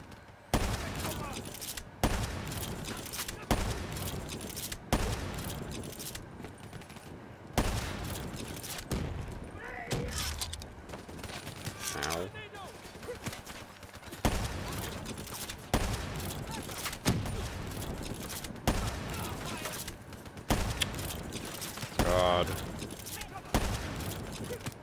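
Rapid bursts of gunfire from Call of Duty Black Ops 3, a video game, crackle through the whole stretch, with dense repeated shots and brief pauses, loud and close, while a player talks over the action.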